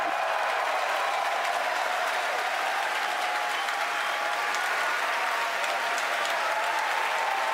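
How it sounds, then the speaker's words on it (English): A large crowd cheers and applauds continuously at a SpaceX Falcon Heavy launch, a dense steady roar of clapping and shouting with no pauses. "Again, over the cheering"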